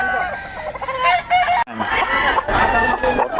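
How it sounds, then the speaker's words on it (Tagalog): Roosters crow and chickens cluck close by at a market, with overlapping calls filling the space and a brief pause midway. "Subukan mo mga manok namin."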